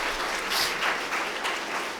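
An annual day audience breaks into strong, sustained applause for a senior journalist's talk, a dense wash of many hands clapping together with no pause.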